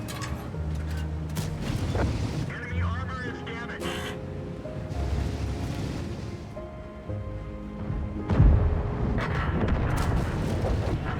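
A Leopard tank's gun fires in a video game, one sharp heavy blast late in the clip over a rumbling engine and mechanical clatter, with someone talking throughout.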